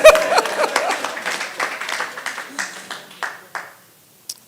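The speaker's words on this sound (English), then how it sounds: "And the round of applause is for the women." Audience applause for women at a Nigerian oil and gas conference, a strong burst of many claps that tapers off into a few isolated claps before fading to quiet.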